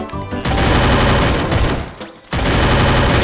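Dense bursts of automatic gunfire from several directions in the battle game Free Fire, loud and nearly continuous with one short lull before the shooting resumes.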